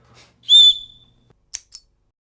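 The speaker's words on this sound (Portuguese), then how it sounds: "Tem um apito aqui, quer apitar?" A small whistle built into a multitool is blown in one long, loud, shrill blast followed by two short, quieter toots.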